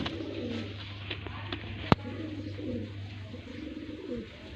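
Soft, low coos of golden teddy pigeons repeat close by over a steady hum, with one sharp click partway through.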